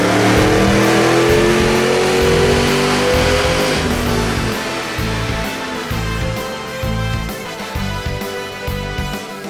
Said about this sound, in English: Let's go ahead and take it for a test drive on the dyno and see how it does.